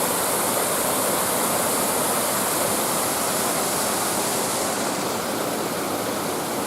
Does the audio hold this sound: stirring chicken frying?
no